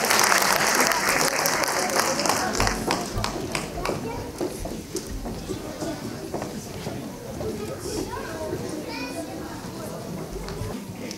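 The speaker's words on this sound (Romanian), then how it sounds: "Să le întâmpinăm cu aplauze" Audience applause at a children's folk ensemble anniversary concert in a village hall, greeting singers coming on stage, lively clapping mixed with children's chatter and crowd voices, loudest at the start and easing slightly.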